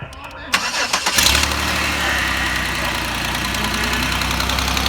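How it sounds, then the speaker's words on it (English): A used car bought at an auto auction cranks and fires up, settling into a rough, steady idle that may carry an exhaust leak; clicks and rattles come before the engine catches, and it is close and loud. "Now we just gotta start up and see how she sounds."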